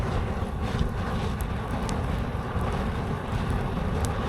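A roaring gas jet about 3.5 feet tall shoots from the top of a wood charcoal retort, making a loud, steady, broadband rush like a rocket motor that runs unbroken and close throughout.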